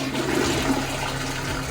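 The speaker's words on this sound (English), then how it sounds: "that's good, but I'm gonna flush it" Toilet flushing in a mobile home, a steady close rushing of water that holds loud and even without a break for under two seconds, with no voices.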